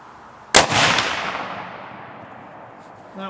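A Ruger American Scout rifle fires cheap ammunition, one loud close crack with a smaller follow-up impact, then a long rolling echo that fades over a couple of seconds above steady outdoor background noise.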